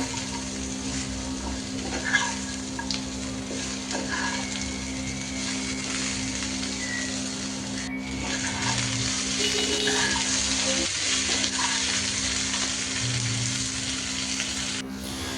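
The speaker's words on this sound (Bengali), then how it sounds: "এখন পটল আর আলুটাও ভেজে নিচ্ছি" Pointed gourd and potato pieces fry in a pan, giving a steady, even sizzle that runs throughout with a faint low hum beneath and no talking.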